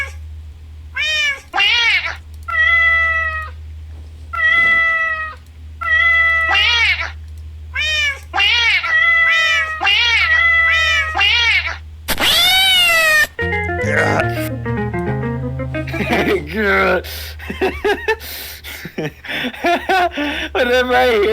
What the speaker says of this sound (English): Live cat reaction.